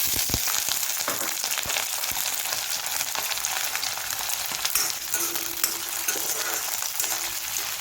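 Onions fry in a pan with a steady, loud hiss and crackle, broken by occasional scraping stirs.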